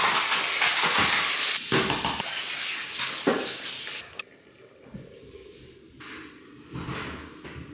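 Chicken stock hits a hot pan with a loud, broad sizzling hiss that flares for a few seconds, then settles into a quieter bubbling crackle.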